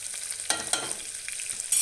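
Curry leaves sizzling and crackling in hot oil for a dal tempering, a steady close frying hiss with a few sharper pops as the leaves hit the pan.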